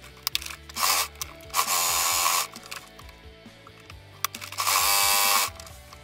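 A sewing machine stitches a seam on tote bag pockets in several short bursts of rapid mechanical whirring, close and moderately loud, with quiet pauses and small clicks between runs.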